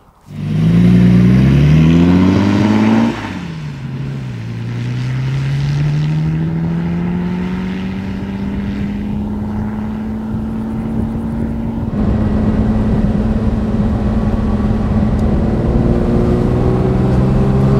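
A 1965 Lamborghini 350 GT aluminium-bodied car with a 4-litre, 320 hp V12 revs hard up close, then settles into a sustained loud engine roar with rising pitch, no talking.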